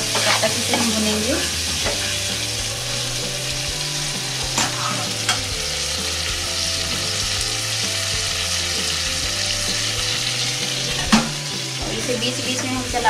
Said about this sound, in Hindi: और अब इसमें हम टमाटर डालेंगे और इसे भूनेंगे जब तक कि टमाटर गल ना जाए अच्छे से